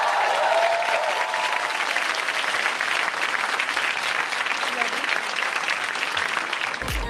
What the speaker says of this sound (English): a wonderful, loud round of applause for all our wonderful speakers